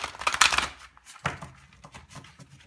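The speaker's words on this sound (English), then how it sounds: "Those are getting really hard to shuffle." Tarot cards are riffled and shuffled up close: a dense crisp burst of flicking, then a few softer slaps and rustles as the deck settles.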